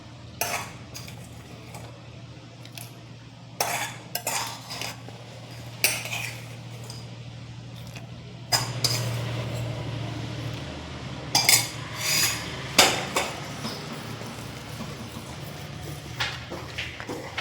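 A spoon stirs fried nuts into milk payasam in a metal pot, making scattered close clinks and scrapes against the pot, with a dull rumble in the middle stretch and sharper clatters toward the end.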